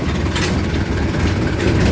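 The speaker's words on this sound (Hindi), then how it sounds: "दोस्तों तीसरे गियर में लगा दिया ट्रैक्टर" A tractor runs in third gear on a village road, hauling a bouncing trolley, its steady low diesel drone loud and close with no talk over it.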